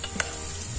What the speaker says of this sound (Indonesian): Nah, kita goreng dulu bawang merah sama cabai.